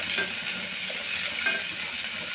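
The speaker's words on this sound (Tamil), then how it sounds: "இதில் வெங்காயம் சேர்த்துடலாம் வெங்காயம் நல்லா வத வதங்கட்டும்" Onions sauté in a pan for a brinjal kadayal, giving a continuous soft sizzle with faint utensil scrapes and a light clink or two, close and steady with no talking.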